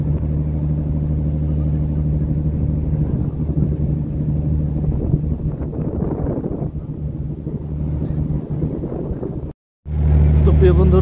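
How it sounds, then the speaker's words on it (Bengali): The Prince Walid 4 passenger launch, a river ferry, reverses at the Fatullah launch terminal, a continuous low engine rumble mixed with wind buffeting the microphone, steady and close, broken by a brief dropout near the end. "ফতুল্লা লঞ্চ টার্মিনাল থেকে ব্যাক গিয়ার দিয়েছে প্রিন্স ওয়ালিদ 4 লঞ্চটি"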